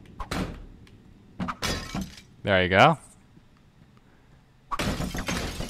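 Picture frames shattering in a video game, heard as a few separate bursts of breaking and crashing debris, with a person speaking briefly in the middle.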